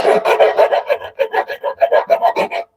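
A file rasps a small burr off a freshly sharpened knife edge in quick, even strokes, about a dozen close, crisp passes in a steady rhythm.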